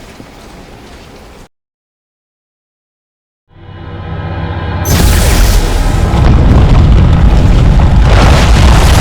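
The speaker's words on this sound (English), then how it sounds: "the explosion also detonated a liquid Tiberium deposit hidden beneath the temple itself" A massive explosion in a Tiberium Wars video game cutscene, also detonating a liquid Tiberium deposit beneath a temple: a brief drop to silence, then a rising rumble that bursts into a loud, sustained, roaring blast.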